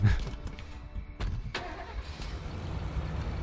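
A big truck engine in the video game State of Decay idles and revs at low volume, a steady rumble with a few brief knocks early on and no talk over it.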